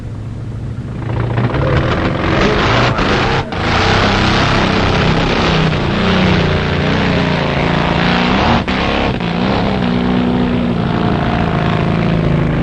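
A roadster's engine roars steadily at a drag strip starting line, loud and continuous throughout with a brief dip near the start, no voices over it.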